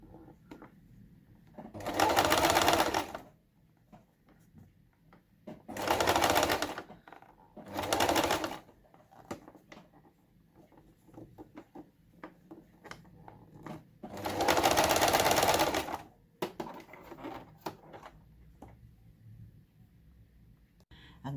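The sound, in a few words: sewing machine stitching a curved quilt block seam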